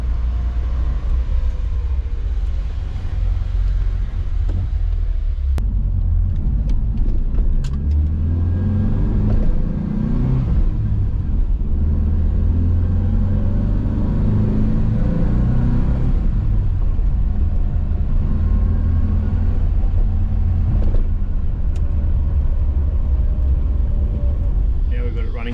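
A Mitsubishi Sigma project car's engine runs roughly and revs up and down in a loud, steady rumble for the whole stretch, with people talking nearby over it.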